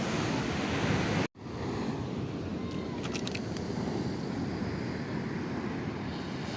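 Ocean waves wash steadily near a breakwater on the coast of Tanza, Cavite, with a constant roar of surf and gusting wind across the microphone, interrupted by one brief dropout.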